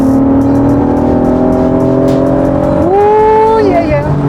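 A 1991 right-hand-drive JDM Honda NSX drives along a road, its engine a loud steady drone heard from inside the cabin that rises in pitch as it revs near the end, with a voice talking over it.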